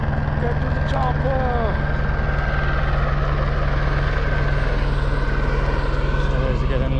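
Helicopter flying over the Sahara desert, a steady, loud rotor and engine drone holding evenly throughout, with faint bird-like chirps early on and no one speaking.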